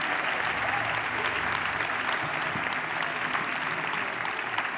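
A large crowd at a live event claps continuously and loudly throughout, a dense, even wash of applause with faint voices mixed in.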